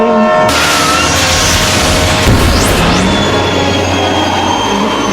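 A loud, continuous rumble of a video game train on the rails, with a brief boom and a rising metallic squeal partway through.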